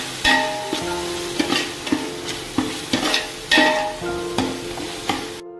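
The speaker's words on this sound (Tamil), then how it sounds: "நல்லா ஊற்றி நல்லா மிக்ஸ் பண்ணி வச்சுக்கோங்க." Biryani ingredients are stirred in a pot, with a steady run of close spoon scrapes and knocks against the metal over a soft sizzle, ending abruptly.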